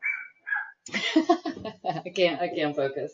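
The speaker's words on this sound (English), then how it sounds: "barking at my chickens." A neighbour's dog barks at chickens in a newly fenced backyard: a few short, sharp yips near the start, then someone talks steadily over the background.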